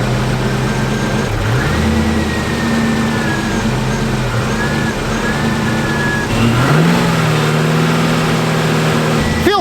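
An air-cooled VW engine idles steadily and close by, running slightly rich, with a low rumbling hum and brief rises in revs, and no voices over it.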